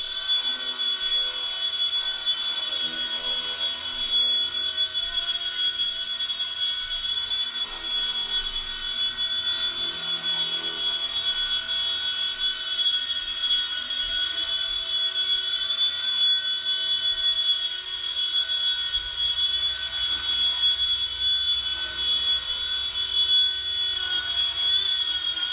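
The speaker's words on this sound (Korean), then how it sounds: "오늘 C129V2라는 입문용 헬기를 리뷰하려고 합니다." C129 V2 budget entry-level RC helicopter in flight, a steady high-pitched motor whine with a constant tone and faint rotor hum, running continuously without speech.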